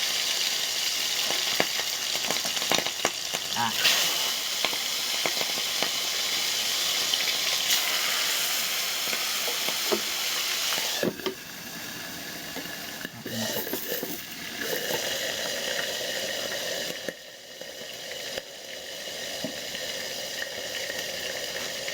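Steady loud sizzling of food frying in a pan fills the whole clip, with occasional clinks and pops over the continuous hiss.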